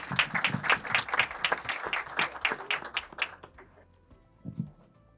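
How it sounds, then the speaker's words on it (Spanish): A conference audience applauds a guest on stage, dense clapping that starts full and then thins out and fades, with a few final scattered claps. "Un aplauso para Hugo, por favor"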